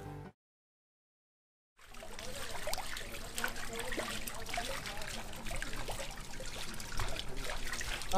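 Water trickles from a pool water feature beside a canal: a soft, steady splashing that starts after a short silence and carries on at low volume to the end, with no voices.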